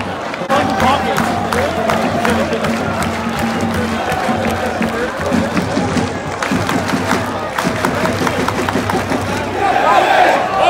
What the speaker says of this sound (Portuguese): Treta na torcida do Flamengo